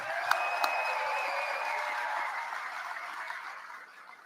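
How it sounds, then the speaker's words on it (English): Crowd applause at a political rally, a broad steady wash of clapping and cheering with a couple of sharp peaks early on, slowly fading toward the end. "Let's give them a big round of applause."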